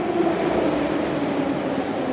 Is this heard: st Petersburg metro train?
yes